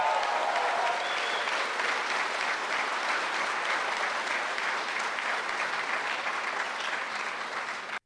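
Steady clapping from people at an ice hockey press conference announcing the Toronto Maple Leafs captain, a continuous even patter of hands that holds for about eight seconds before stopping.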